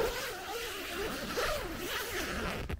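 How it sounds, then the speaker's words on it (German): A Blackdeer three-person tent's zipper is pulled along its track in one long, close, rasping run that ends in a brief sharp snag. "Reißverschluss"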